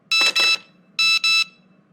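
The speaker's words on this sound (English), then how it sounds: "your evil clone pulled the fire alarm at Whole Foods Market" An electronic fire alarm in a Whole Foods Market sounds in two pairs of loud, harsh buzzing bursts, each burst about a quarter second, with a short pause between the pairs.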